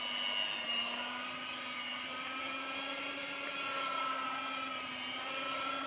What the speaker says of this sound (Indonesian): saya menambahkan speed mixer saya menjadi 2